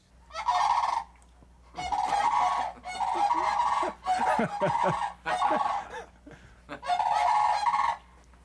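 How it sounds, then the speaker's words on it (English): Sandhill cranes give a series of loud, rolling, trumpeting calls in repeated bursts of a second or so, close by and outdoors, with no talk over them. "That's the sandhill cranes calling it a wild crane that had been parked with them, and they took off, so they're calling it back."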